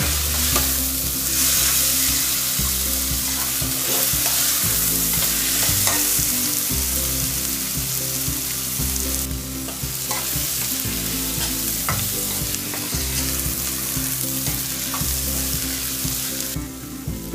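Onions and peppers frying for pav bhaji, a loud continuous sizzle with stirring scrapes throughout, layered over a low steady tonal hum, no talking.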